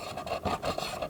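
Rhythmic rasping scrubs as decal residue is worked off the edges on a 1987 G.I. Joe Persuader toy vehicle, close and steady back-and-forth rubbing strokes with no talk.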